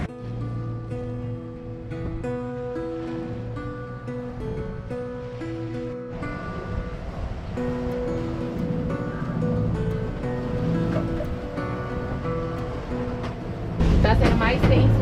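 Large, rough sea waves wash and surge around a sailboat underway on an agitated sea, a constant heavy roar with a louder surge near the end; tonal background music plays throughout.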